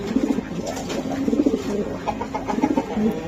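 Racing pigeons at a club sale coo repeatedly up close, soft throaty rolling calls overlapping in a rhythmic series, loud and clear with no talk over them.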